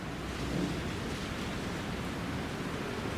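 A thunderstorm on a Bishkek street at the corner of Shopokov and Toktogul gives a dense, continuous roar of rain and rumble, loud and even throughout with no voices.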